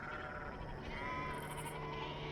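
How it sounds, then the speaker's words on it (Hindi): Sheep and goats bleat over a dense, continuous wash of background sound in an open pastoral setting, with a wavering bleat rising clearly above the steady noise. "मोशे अपने ससुर मिदियन के पुरोहित येथ्रो की भेड़ बकरियां चराते हुए"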